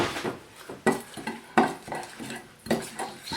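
Ground spices for an Old Bay-style seasoning, with celery seed, ground pepper, cloves, allspice and cardamom, are stirred in a bowl, giving a quick series of close clinks and scrapes against the dish.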